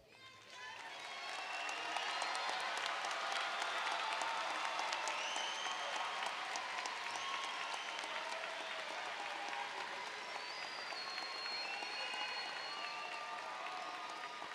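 High school commencement audience applauding, a sustained wash of many hands clapping at a moderate distance, with scattered voices and faint cheers mixed in throughout.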